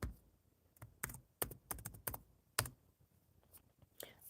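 Keys clack on a computer keyboard in short irregular bursts and single taps, close and fairly quiet in a calm room during a live stream.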